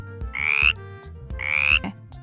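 A frog croaks twice, each call a loud, rasping buzz lasting about half a second, alone and close with short pauses between.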